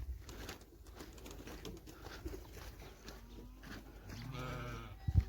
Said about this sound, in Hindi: ये है हमारा बकरियों का बाड़ा, बकरियों का घर